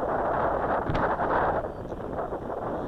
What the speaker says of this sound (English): the wind is really hard